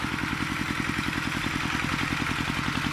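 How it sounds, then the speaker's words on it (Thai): A converted Kubota ET 95 tractor engine, modified to 115 and driven through a pulley, chugs steadily while pushing soil to level a rice field, with a close, even, rapid knock throughout. "สำหรับรถไถคันนี้ก็เป็นเครื่อง ET 95 แปลงมาเป็น 115"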